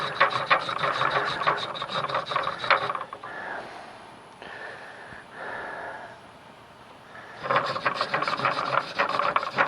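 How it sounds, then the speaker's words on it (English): Hand sawing through a length of urban scavenged wood to cut the end off a self bow stave, a rhythmic back-and-forth rasping that pauses midway and then resumes, close and fairly loud. "I'm going to try to kind of work it back and forth as far as sawing."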